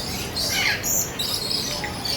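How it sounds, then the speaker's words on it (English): Lorikeets squawk and chirp in the Lory Landing interactive aviary at Busch Gardens Tampa, a dense, steady mesh of bright, shrill calls close around the listener with no clear voice over them. "They're not kidding when it's an interactive bird experience. They fly right at you."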